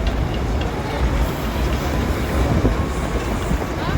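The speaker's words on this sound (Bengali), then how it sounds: "এই টয় ট্রেন যাচ্ছে বাতাসি আলু উপরে এদিকে" The Darjeeling toy train rolls past at Batasia Loop, a loud, close rumble of wheels and carriages with clattering rail noise, while people talk nearby.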